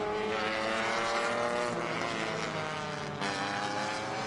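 Race cars roar past on the Road America circuit during a touring car round, a continuous loud engine drone swelling and shifting pitch as they pass, with no speech over it.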